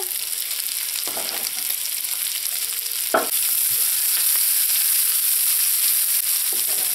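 Chopped onions and scallions fry in a hot pan with a steady, close sizzle, broken by a few brief stirring scrapes and clatters.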